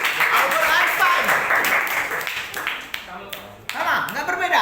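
A classroom of students claps during a school teaching session, with scattered uneven hand claps mixed into ongoing talk and voices before fading and briefly picking up again.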